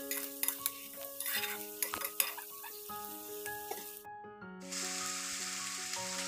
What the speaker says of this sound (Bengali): আর আলুটা দেওয়ার পরও আমি আরও কিছুক্ষণ একটু কষিয়ে নেবো ভালো করে।